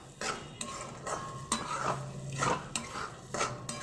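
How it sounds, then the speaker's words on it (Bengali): Paneer bhujiya with chopped coriander leaves stirred in a pan, a spatula scraping and clinking against the metal in quick repeated strokes over a light sizzle. "আর দিয়ে দেবো ধনে পাতা কুচি এবার নাড়াচাড়া করে দেবো"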